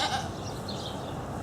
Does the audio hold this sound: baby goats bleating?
yes